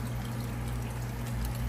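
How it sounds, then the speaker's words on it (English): Aquarium tank water flowing into a floating fish bag with a submerged edge, a quiet steady trickle over a constant low pump or filter hum. "let a little tank water in"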